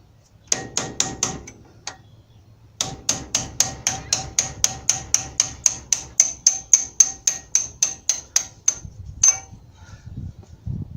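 A 3/8 extension is hammered to tap brake caliper pins out of a 1994 Ford Ranger: about thirty sharp, ringing metallic taps in steady rhythm, close and loud, with a brief pause before the taps resume and quicken.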